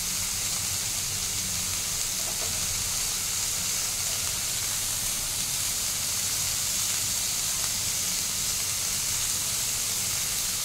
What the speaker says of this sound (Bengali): তো সবজিগুলো আমার ফ্রাই হয়ে গেছে